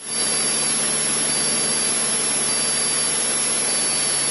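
Cessna 152 light aircraft engine held at cruise power, a loud, steady, unbroken roar and hiss filling the cabin, with a faint high whine on top and no talk.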